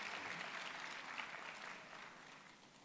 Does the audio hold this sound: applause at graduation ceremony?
yes